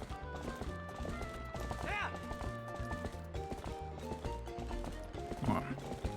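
A horse gallops in The Legend of Zelda: Twilight Princess HD, its rhythmic clip-clop hoofbeats running under bright, tonal game music.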